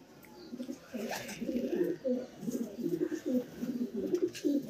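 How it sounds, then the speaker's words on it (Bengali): Racing pigeons in a loft, including a male bird, cooing in repeated soft throaty warbles at close range, the rolling calls coming one after another with little pause. "এই নর পায়রা।"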